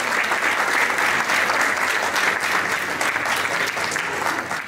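Loud, sustained applause from a large theatre audience after a stage drama, steady clapping throughout with no pauses.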